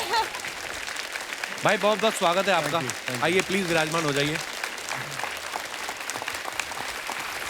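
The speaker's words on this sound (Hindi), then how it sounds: "जोरदार तालियां आ जाए अजय अतुल जी के लिए।" Steady applause from a studio audience at a televised Hindi comedy show rolls on throughout, while a host speaks warmly over it in the middle, close and clear above the clapping crowd.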